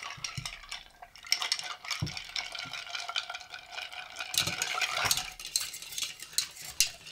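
Ice cubes clink and rattle against glassware during a martini dry rinse, a busy run of bright, close clinks and taps with a few louder knocks, no talk.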